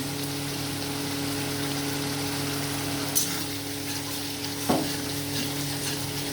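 Potatoes and cauliflower being sautéed in a pan for a cauliflower curry give a steady close sizzle with soft stirring scrapes, broken by two short louder clinks of a utensil against the pan.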